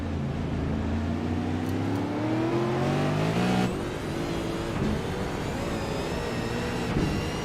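Race cars work through a tight corner at Oulton Park during an AOSC Super Series round. Loud engines drop in pitch under braking, then one car goes back on the power and fades as others follow, with no talk.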